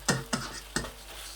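Lamb stir fry thickened with cornflour is stirred in a hot pan, with three quick scraping strokes over a low, steady sizzle, and no voices.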